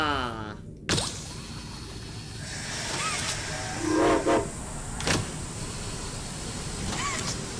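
A slow, very loud train in the video game Poppy Playtime Chapter 2, giving a steady roaring rumble and hiss with whistle-like tones and sharp clanks, filling the whole stretch with no speech.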